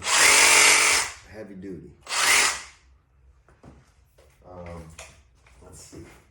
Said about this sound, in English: The Sawzall is definitely really nice, especially this one. This is the brushless motor